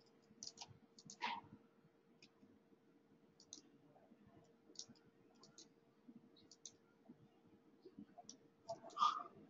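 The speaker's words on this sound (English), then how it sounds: "Not liking my clicking mouse." Computer mouse buttons clicking on a Windows machine, quiet sharp clicks scattered at irregular intervals, a few louder ones near the start and end, over a low background hum.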